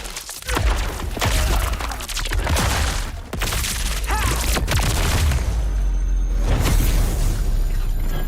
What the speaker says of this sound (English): Explosion on that guy.